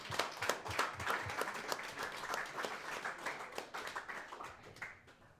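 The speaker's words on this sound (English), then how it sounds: "So I think it's only fair that we up here clap for everybody out there." A small group of people claps together in a room, a steady patter of handclaps that is moderately loud and fades toward the end, with no talking over it.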